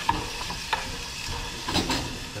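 Sauce cooking down over high heat in a hot pan, a soft sizzle under a few scraping stirs of a utensil against the pan, close and brief with no talking.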